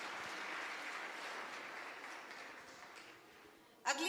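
Applause from a congregation at a church healing and testimony service, a broad steady patter of clapping that gradually thins and fades, ending with a brief sharp noise.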